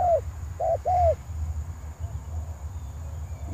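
A spotted dove perched on a cable gives three short, clear coos at the start, then falls silent over a steady low background hum.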